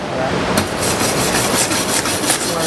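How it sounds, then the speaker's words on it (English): A wire brush scrapes loose slag off a fresh weld made with a VEVOR MIG250 welder, giving a loud, harsh bristly scratching that runs in quick repeated strokes close to the microphone. "Brush that a little bit, get the loose slag off."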